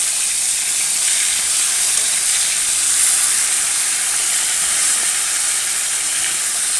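Small fresh pond fish frying in a thin layer of oil, one side already browned, producing an even, loud, hissing sizzle that holds steady from start to finish.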